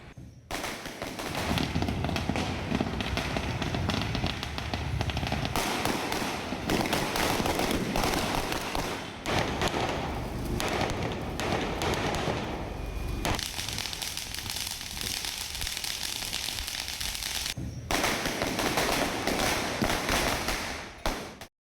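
Diwali firecrackers in Sivakasi burst in dense, rapid crackling volleys, loud and continuous with brief lulls, a long string of sharp pops and bangs.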